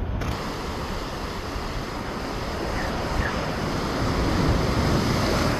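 Large ocean waves surge and break on the shore at a shore-fishing spot, a broad, continuous rushing roar that swells louder toward the end, mixed with wind buffeting the microphone.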